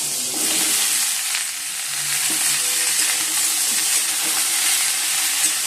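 Vegetable curry of potato and pointed gourd frying in a pan, a loud, steady sizzle and hiss running throughout with faint stirring clatter.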